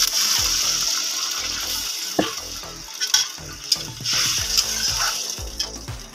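Water poured into a pan of sizzling fried onion and tomato while making Maggi noodles, a steady frying hiss broken by splashes and clinks of stirring close by.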